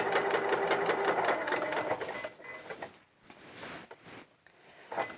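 A sewing machine stitches fabric for coveralls in a fast, even rhythm of needle clatter, close and clear for about two seconds, then slows into a few softer, intermittent runs.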